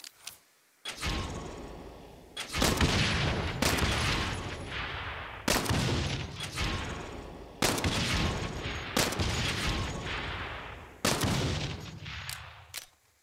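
Gunfire in the video game Saints Row, loud bursts of rapid shots in about seven separate volleys with short pauses between, sharp and close, no talking.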